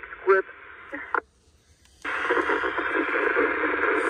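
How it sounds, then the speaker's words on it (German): Hissing static from a radio set mounted on a roof rack, a broad steady rush that cuts in after a brief silence and keeps going, loud and close; a radio voice crackles before the gap. "So, da kommt jetzt irgendein Rauschen."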